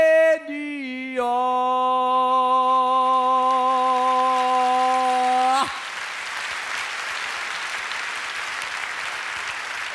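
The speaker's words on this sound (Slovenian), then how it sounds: "še enkrat hvala za prisrčen aplavz" A television studio audience breaks into steady, full applause right after a sustained musical chord ends, the clapping continuing densely to the end.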